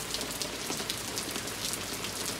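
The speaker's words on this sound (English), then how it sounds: "This is a rainy Thanksgiving." Rain falls outdoors on a rainy autumn Thanksgiving among trees and fallen leaves, a dense, steady patter on surfaces with no voices.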